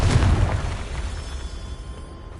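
A Confringo blasting spell in Hogwarts Legacy sets off a loud explosion, a heavy boom at the start that rumbles and fades over two seconds.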